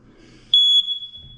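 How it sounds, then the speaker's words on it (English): A household smoke detector sounds a single sharp, high electronic test beep of about a quarter second, close and loud, after its batteries were changed, with faint room noise and rustling before and after. "change the batteries out on the existing smoke detectors"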